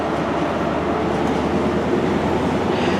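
A GWR InterCity 125 high speed train, power cars 43021 and 43041 with an unrefurbished green set, passes through Newton Abbot station with a steady, loud rumbling roar and rail noise that holds throughout.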